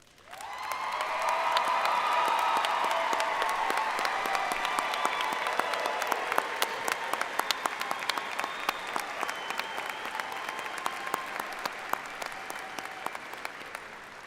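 Commencement audience for the College of Agricultural Sciences applauding standing first-generation students, faculty and staff, a broad sustained round of clapping that swells quickly, then thins into scattered individual claps as it fades.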